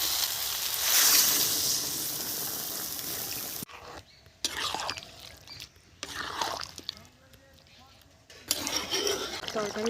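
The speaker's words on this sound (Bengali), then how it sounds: "হয়ে গেছে, এখন আমি জল ঢেলে দেবো।" Water hisses and splashes as it is poured into a pan of garden vegetable curry, then utensils clatter and scrape intermittently while someone speaks.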